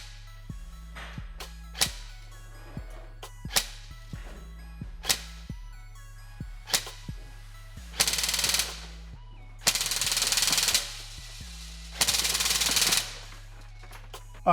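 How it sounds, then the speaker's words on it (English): A Centurion Arms CM4 airsoft rifle firing at a chronograph station, first as a string of sharp single shots, then several loud, rapid full-auto bursts of about a second each, close and with no talk. "it's going to be shooting about 380 feet per second and around 19 rounds per second"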